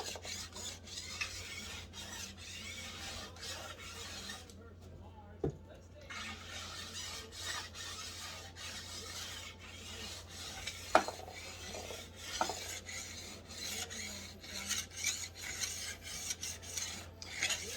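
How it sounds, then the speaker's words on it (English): A file rasping rust off a ski edge set in a base bevel guide: repeated scraping strokes in a steady rhythm, close but fairly quiet, with a short pause midway and a few small knocks. "Just taking a lot of rust off the edge, cleaning it up, making it nice and sharp on the base."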